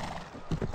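Horse hooves clip-clopping with a brief neigh from the Disney Princess Royal Horse Show video game from 2003, a short burst of quick hoof beats over noisy background chatter.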